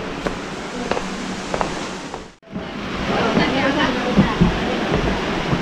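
Water pours from a Dutch-built aqueduct spanning a river, a dense, continuous roar like a small waterfall with a brief dip midway, while people talk faintly in the background.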